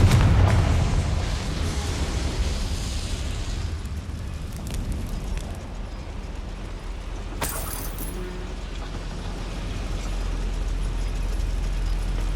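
A Confringo blast spell fired in the video game Hogwarts Legacy, heard as a dense, loud rumbling burst with a brief sharp crack partway through, then a sustained low roar, with no talking.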